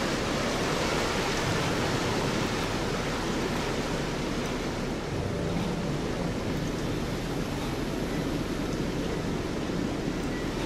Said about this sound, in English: That's a pretty waterfall you got there.